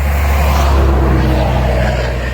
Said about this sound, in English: A lot of big trucks.